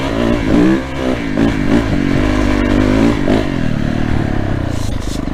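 A Yamaha 450 YZF dirt bike engine revs loud and close, its throttle rising and falling unevenly as it rides over rough ground with a few clattering knocks.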